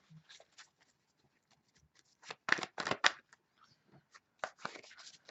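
Tarot cards shuffle in short soft riffles and flicks with quiet gaps, the busiest stretch in the middle, close and low in level with no talk.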